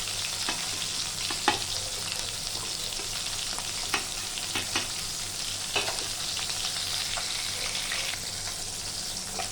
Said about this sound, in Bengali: মাছটা ভাজা হয়ে গেছে, আমি তুলে নেব